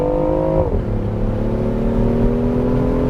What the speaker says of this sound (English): Getting on the highway here in Florida, it is quick and we're going fast.